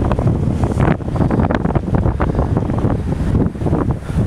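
Strong cold wind at Anglesea on the Australian coast roars steadily across the microphone in loud, gusty buffeting for the whole stretch, with no voices.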